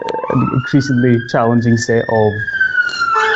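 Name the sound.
loud emergency sirens outside in Glasgow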